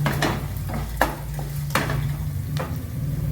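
Rava semolina roasting in a pan for uppumavu, with a faint steady sizzle under sharp, periodic scrapes and clinks of the spoon against the pan as it is stirred.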